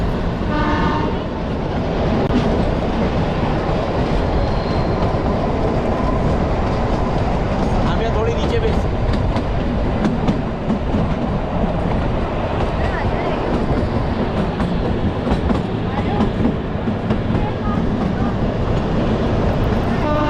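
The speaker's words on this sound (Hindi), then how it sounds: "जिस तरीके से पहाड़ों पर लहराती हुई हमारी ट्रेन चल रही है" The Kalka-Shimla heritage mountain train winds through hills, with loud continuous rumble and rattle of the cars, clickety-clack along the track, and a horn sounding, while voices talk over the ride.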